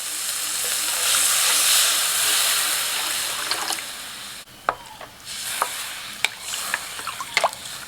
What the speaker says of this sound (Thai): เราจะผัดให้เนื้อพอตึงๆนะครับ